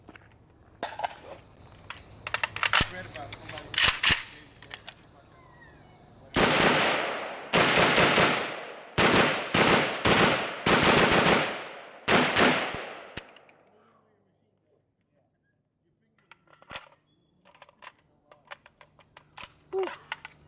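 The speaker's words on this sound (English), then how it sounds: "it feels and shoots like a regular AK" A rusty, beat-up AK rifle fired outdoors in several bursts of loud, close shots, clusters of rapid reports separated by short pauses, followed by quieter clicks and handling noises with brief talk.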